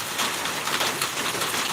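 Rain falls steadily on a tin roof, a continuous dense hiss with no talking.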